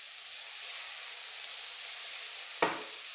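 Onions and peppers sauté in a pan for shakshuka, a steady even sizzle throughout, broken by one brief scrape or clack near the end.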